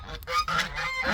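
A domestic goose gives a few sharp, nasal honks in quick succession, close and fairly loud.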